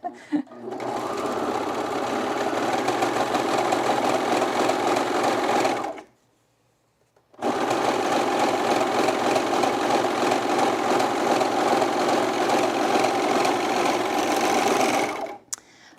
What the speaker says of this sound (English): There's my Serger.